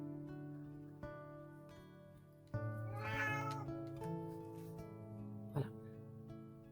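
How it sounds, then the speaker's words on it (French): A house cat meows and grumbles indoors in a drawn-out, wavering complaint that rises briefly in the middle. It is quiet and somewhat distant, with soft background sounds around it. "c'est mon chat qui rouspète"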